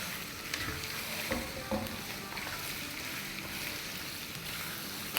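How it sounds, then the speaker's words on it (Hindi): Mutton chops pan-roasting with onion and garlic, a soft continuous sizzle with occasional stirring scrapes, fairly quiet and steady, no voices heard. "अब इनकी भुनाई करेंगे 2-3 मिनट तक। चॉप्स, प्याज एंड लहसुन।"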